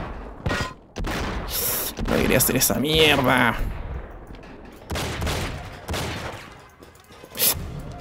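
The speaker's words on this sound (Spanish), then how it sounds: "me están agarrando balazos por todos lados" Gunfire in the video game Enter the Matrix, heavy bursts of shots and booming impacts in rapid clusters, loud and close, with someone talking over the firefight.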